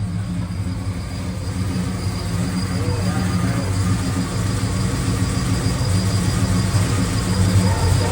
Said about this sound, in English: Oh, you just can't beat a big block.